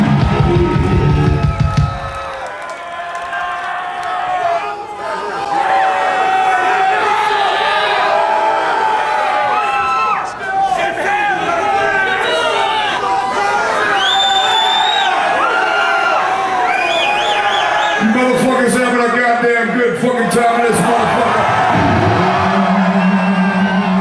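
A crowd at a live metal concert whoops, yells and cheers continuously and loudly, with shouted voices mixed through the noise.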